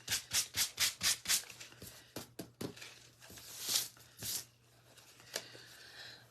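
Sandpaper rubbing over wooden wings of a primitive snowman angel ornament, a quick run of rhythmic scrubbing strokes up close, then scattered slower rubs and scrapes at a quiet level.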